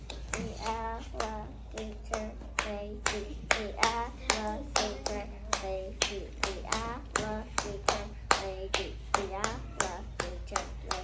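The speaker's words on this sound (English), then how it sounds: "Now, can you clap the 6/8 clave that holds everything together?" First-grade children clap the 6/8 clave pattern in a jazz class, sharp crisp claps repeating in a steady lilting rhythm for several cycles, close and loud, with a voice faintly underneath.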